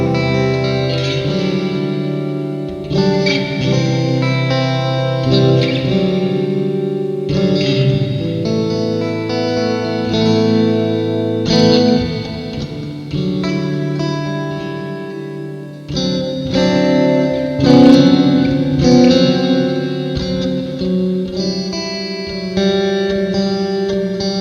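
A clean-toned electric guitar through a Reverberry reverb pedal on its room 2 setting, playing chords and short melodic phrases with a lingering, spacious tail, loud and continuous for about 25 seconds with no voices.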